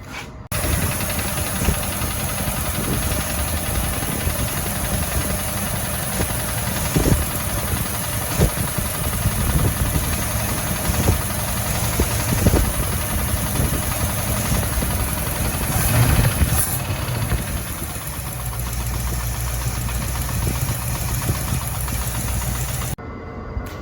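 A 1963 Mercury Monterey engine running at idle, a loud, steady, rumbling drone with a rough mechanical texture that holds close and constant throughout, no voices over it.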